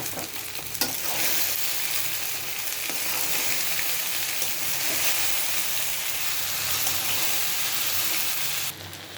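Okra fries in a pan with egg and salt, giving a continuous, even sizzle with occasional stirring scrapes, close and fairly steady throughout, then it cuts off near the end; no speech.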